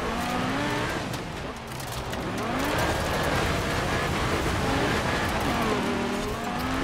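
A V10-swapped Audi RS7 rally car roars in Forza Horizon 4, its engine loud and close with rising and falling revs through gear changes, continuous throughout with no talk.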